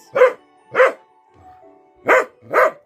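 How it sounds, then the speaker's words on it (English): A dog frightened by a Christmas tree barks indoors, two sharp barks, a soft whimper, then two more, loud and close with nothing else around. "Small break to reassure the dog that's scared of the Christmas tree."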